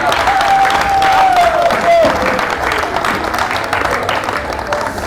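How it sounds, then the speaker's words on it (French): Crowd applause fills the room for the Jeunesse Hemba team and committee at a New Year's wishes gathering, steady and fairly loud clapping with a voice over it. "Mais je vous demanderai quand même d'applaudir l'équipe et le comité à Jeunesse Emba."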